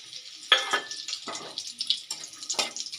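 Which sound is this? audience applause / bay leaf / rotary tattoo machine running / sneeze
bay leaf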